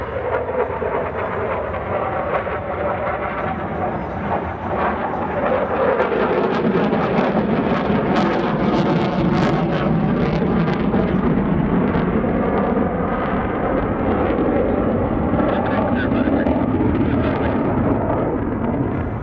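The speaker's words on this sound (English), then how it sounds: "It looks like a mighty F-22 Raptor has arrived just in time." An F-22 Raptor fighter jet passes over an Arctic airshow with a loud, broad roar that swells and rumbles continuously, close and powerful throughout.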